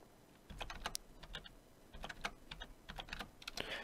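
Light, irregular tapping on a computer keyboard as values are typed in during a game-engine tutorial, quiet and close, with small clusters of keystrokes and no speech.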